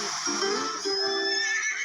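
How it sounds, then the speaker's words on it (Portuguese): A horse in the game Wild Horse neighs in a sharp, close whinny that wavers and trails off over about two seconds, with no voices. "É um joguinho de cavalo."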